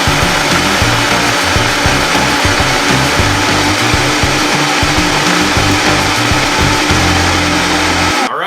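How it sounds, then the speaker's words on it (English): Vitamix vacuum blenders run flat out together, a loud, dense, whirring motor roar that holds steady for several seconds before cutting off abruptly at the end. "We're gonna go ahead and once again turn these blenders on for the exact same amount of time."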